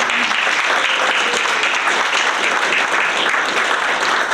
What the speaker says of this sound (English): How about another round of applause for all of our Hallett Senior students?